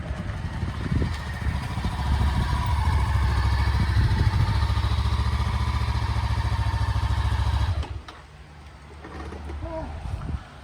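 A Honda CB500X motorcycle engine runs steadily and close for about eight seconds, then cuts off, leaving quieter ambience with a few faint sounds afterward.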